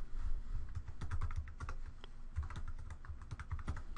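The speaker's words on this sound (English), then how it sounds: "You can move into other sections of the demographics by using the tab key on your keyboard." Rapid, irregular clicks of fingers typing on a computer keyboard while entering a new patient record into electronic health records software, close and steady for the full stretch with no talking.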